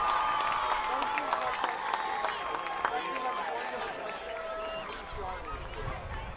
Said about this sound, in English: let's give another round of applause for our 2023 Fall Cheer and Cross Country Seniors